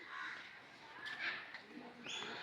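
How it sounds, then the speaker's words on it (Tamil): Birds calling in a zoo aviary at Pilikula Biological Park in Mangalore, with cooing and cawing-like calls scattered through a busy, fairly faint outdoor wash of chirps and some background voices. "2 பக்கமே பறவைகள் இருக்குது."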